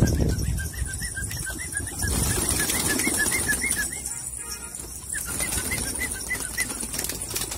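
Pigeons with plucked wing and tail feathers flap their wings in a continuous, close fluttering rush, with a string of light repeated notes running through it.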